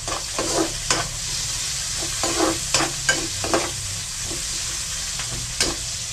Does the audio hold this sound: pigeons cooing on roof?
no